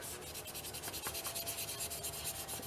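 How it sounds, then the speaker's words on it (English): Chalk is rubbed onto a journal page in quick, even back-and-forth strokes, about a dozen scratchy passes in a steady rhythm, close and fairly quiet, with no voices. "let's just add a little bit of chalk just to get rid of that sort of like plain page look"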